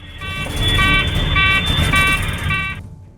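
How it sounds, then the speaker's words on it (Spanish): Several aircraft cockpit alarms blare together in a loud, continuous, pulsing electronic tone over a rumbling cabin background, cutting off abruptly near the end. "múltiples alarmas empiezan a sonar en la cabina, acompañadas de ruidos fuertes en el fuselaje"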